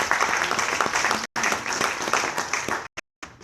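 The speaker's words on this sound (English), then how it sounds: "Round of applause." Audience applause at a conference's final day: dense, continuous clapping from a crowd, broken by a couple of brief cut-outs near the end.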